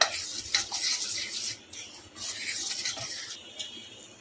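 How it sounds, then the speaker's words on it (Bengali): A spoon stirs and scrapes dry ingredients for chocolate chip vanilla cookies around a bowl, producing quiet, gritty rubbing and faint clinks in uneven strokes with brief pauses. "আগে শুকনো উপকরণটা মাখিয়ে নিচ্ছি ভালো করে।"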